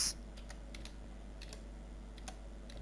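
Computer keyboard keys tapped in short scattered bursts while entering data in an Excel spreadsheet, close and fairly quiet over a steady low hum, with no talking.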